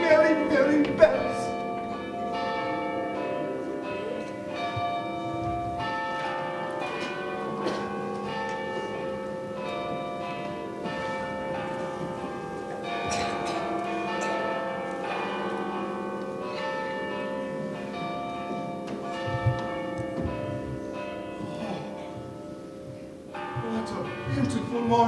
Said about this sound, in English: Oh, bells, bells, merry, merry bells.